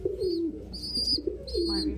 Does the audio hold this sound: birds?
yes